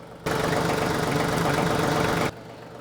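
A TYM 2515H tractor engine idles steadily and loudly for about two seconds, with a constant low mechanical drone that starts and stops abruptly, and no talking.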